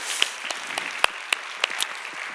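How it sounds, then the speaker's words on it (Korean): A church congregation at a young adults' worship service claps briefly in praise, a short scattered patter of hand claps with a few sharp louder claps, close and moderately loud. "하나님께 영광의 박수 올리겠습니다."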